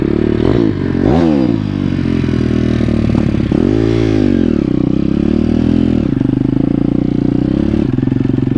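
A warm PitBike 170 engine starts and runs, a loud close motorcycle engine that surges with several revs before settling into a steady idle.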